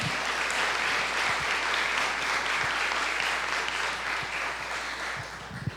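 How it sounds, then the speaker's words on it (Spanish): A church congregation breaks into sustained applause, a dense, even wash of many hands clapping that holds steady for several seconds before easing slightly at the end. "démosle un aplauso al Señor"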